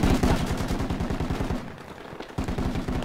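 Sustained suppressive automatic gunfire in the Project Reality video game, set in the Falklands War, rattles in rapid, steady bursts with a short lull before the firing resumes.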